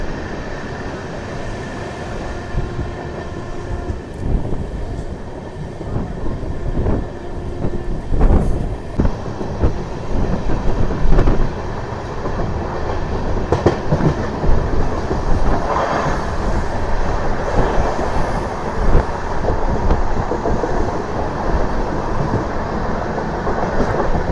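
A train picking up speed on rails after leaving Tirupati, with steady loud rumble and rhythmic clickety-clack of wheels over rail joints, continuous and close throughout, no talk.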